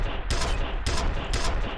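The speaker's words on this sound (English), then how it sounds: "Oh, he's got the repeater cannon." Repeater cannon fire in the game F.E.A.R. bursts out as loud, dense rapid shots in three pulses, close and harsh with no talk over it.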